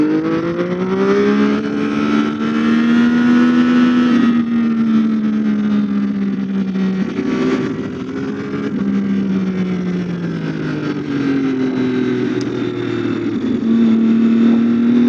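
Triumph Daytona 675R 2011 sport motorcycle engine, loud and close, holding a steady drone with smooth rising and falling pitch sweeps as the revs climb and ease off, no speech over it.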